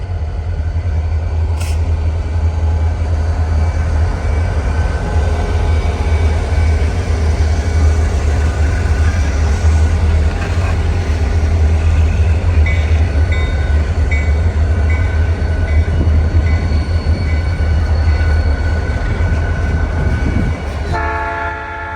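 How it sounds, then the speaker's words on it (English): A Blue Ridge Southern Railway freight train rolls past in North Carolina with a loud, steady engine rumble and rail noise. A horn blares loudly near the end. "something else begging to be filmed on the opposite side of this industry: trains."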